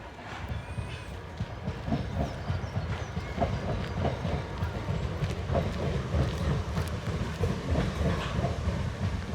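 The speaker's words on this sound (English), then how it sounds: "It's one of the southern trains that stop off at Crystal Palace train station." A Southern passenger train rolls by near Crystal Palace station with a steady, close rumble and rhythmic clickety-clack of wheels over the rails, plus faint squeals, continuous for about nine seconds.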